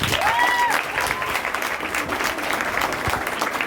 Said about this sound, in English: Can we give him a hand of applause now?